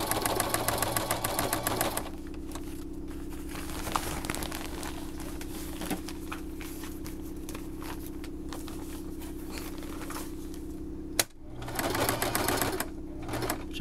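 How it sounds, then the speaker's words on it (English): Sewing machine running a continuous straight stitch around the edges of a baby changing mat, a steady mechanical whir with a brief pause near the end before resuming, close and alone. "So we're just going to do a straight stitch all the way around."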